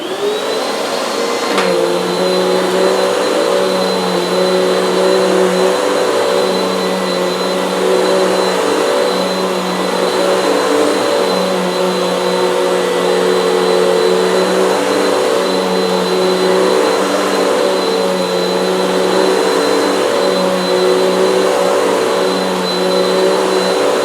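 A Bissell CleanView OnePass upright vacuum cleaner running on carpet: a loud, steady motor whine and rush of suction that switches on near the start and drones on unchanged, close by.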